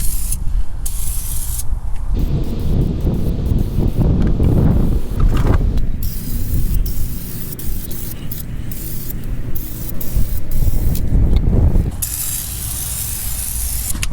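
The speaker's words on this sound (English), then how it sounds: "We're just gonna keep spraying everything that we see." PB Blaster Surface Shield rust protection sprays onto a car underbody in long, loud continuous hissing bursts with short pauses between passes.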